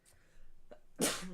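A single sharp sneeze bursts out nearby after a quiet intake of breath, loud and abrupt, then trails off, with no talking over it.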